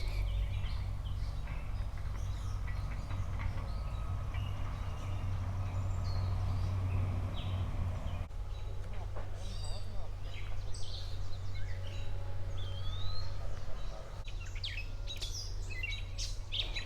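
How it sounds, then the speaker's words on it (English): Birds chirp and sing outdoors in a shaded garden, many bright calls layered together over a steady low hum, with a voice talking beneath them. "I hate to interrupt this beautiful bird song"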